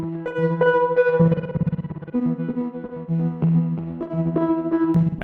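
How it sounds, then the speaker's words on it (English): Glitchy, granulized delay from the Portal plugin processing a bright, harmonically rich tone, with stuttering repeats and shifting pitched echoes that stay loud and dense, no voices present. "we love to use Portal for kind of glitchy delays or granulized delays"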